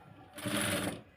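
A sewing machine stitching a size 30 blouse runs in one short, close burst of steady whirring and needle clatter lasting about half a second, with no talk.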